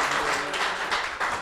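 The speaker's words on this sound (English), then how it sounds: "Give him a round of applause," An audience applauds steadily at a live talk show event with a special guest, a dense wash of clapping that stays fairly even and close throughout the short burst.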